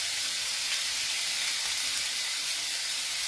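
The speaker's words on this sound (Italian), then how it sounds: "Adesso sfrigolerà per bene." A salmon steak sizzles in a hot pan with a steady, even hiss and crackle that holds throughout at a moderate, close level. No voices.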